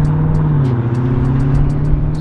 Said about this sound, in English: Oh look, a Dodge Demon.